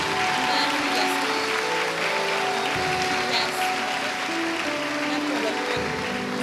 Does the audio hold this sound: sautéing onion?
no